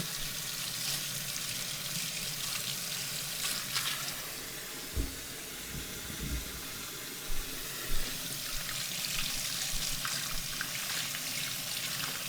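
Vegetables for a pot roast rinsed under running kitchen water, a continuous gentle stream with a few soft thumps and knocks from the sink, close by and steady throughout.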